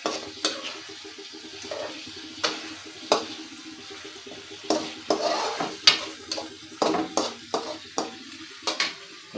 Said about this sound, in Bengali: বন্ধুরা একটু মশলা মাখিয়ে দিয়ে মাছটা বসাই দিয়েছি।